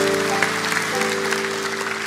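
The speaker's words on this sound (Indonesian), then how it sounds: "Kita tepuk tangan untuk Tuhan," A church congregation gives God a brief round of applause, a dense steady patter of clapping with a steady sustained tone underneath.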